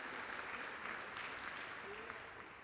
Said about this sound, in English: Teresa, you got to give a round of applause for this tremendous leader